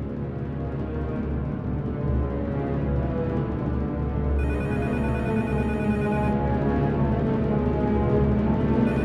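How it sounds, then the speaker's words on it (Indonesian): A telephone rings with a steady electronic bell tone under a busy, continuous background, its bright ringing pattern holding across the whole stretch at moderate loudness. "Ada telepon tuh"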